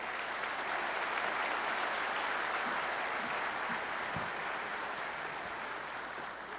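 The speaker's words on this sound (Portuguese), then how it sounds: "Uma salva de palmas," Steady, moderately distant applause rises from a forum audience greeting directors coming on stage, an even wash of clapping that holds for several seconds and eases slightly toward the end.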